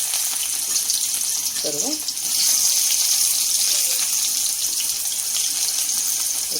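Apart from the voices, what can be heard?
onion frying in bitter gourd oil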